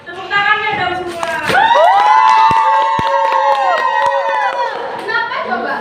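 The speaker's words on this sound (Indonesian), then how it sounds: "Tepuk tangannya dong semua." An audience at a school campaign-style presentation claps and cheers loudly, with shouts and a sustained whooping cry rising over a dense crowd roar that keeps going throughout.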